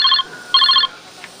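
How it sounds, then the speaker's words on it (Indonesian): A telephone rings in two short electronic bursts with a pause between them, loud and close, followed by a quiet room. "Telepon aing tuh barudak."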